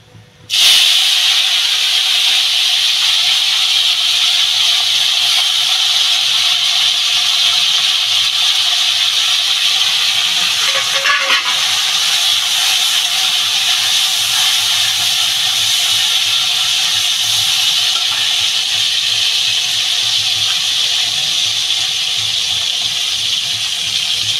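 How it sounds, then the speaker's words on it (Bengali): Dried shrimp added to a cabbage fry, an abrupt burst into loud, steady hissing sizzle that holds for the whole stretch with faint stirring scrapes, no voices. "এবার আমি এই যে শুকনো চিংড়িটা এটা দিয়ে দেবো।"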